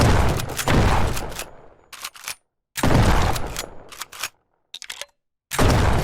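Revolver gunfire and reloading in a survival video game: a run of loud, sharp shot bursts separated by short quiet gaps, with faint mechanical clicks in between, close and with no talking.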